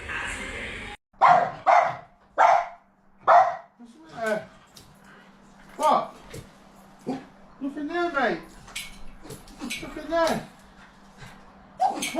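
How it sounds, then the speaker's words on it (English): Dogs barking in a series of sharp, separate barks spaced through the clip, mixed with yips and whimpers, with a person talking between and over them. "dogs."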